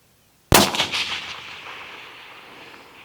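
A single rifle shot fired at a small steel target at long range, a sharp loud crack followed by a long rolling echo that fades over a few seconds, with no talking.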